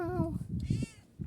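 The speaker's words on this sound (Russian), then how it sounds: "Ругательный кот." A domestic cat gives a short, loud meow up close, with a second quieter mew after it, while a person talks over it.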